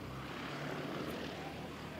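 A Jetstar airliner pushing back at the gate, its steady low engine hum and whine droning evenly, quiet and somewhat distant, with no other sounds standing out.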